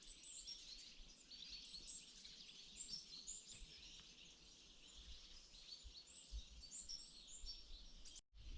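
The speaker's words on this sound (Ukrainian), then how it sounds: "Скільки тут пташок багато. Ще до лісу не дійшов, вони вон як співають тут в хащах." Many small birds sing and chirp in thickets near a forest in winter, a faint, continuous chorus of overlapping high tweets heard from a distance with no talking.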